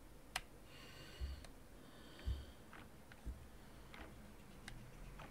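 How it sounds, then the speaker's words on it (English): A clock ticks in the Before I Forget video game, with quiet, faint, evenly spaced clicks over a low hiss and a few soft breathy thumps between them. "That's the clock."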